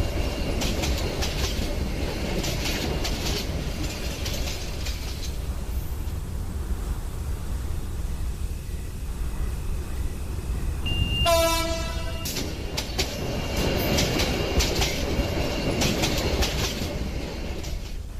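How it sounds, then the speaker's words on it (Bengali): A train rumbles steadily, its horn blaring loudly once for about a second, then the rolling noise continues as it slows into a station. "আবার হর্ন বাজিয়ে ট্রেনটি হাসিলপুর স্টেশনে এসে থামল।"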